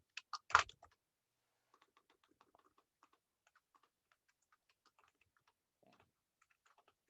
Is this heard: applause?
no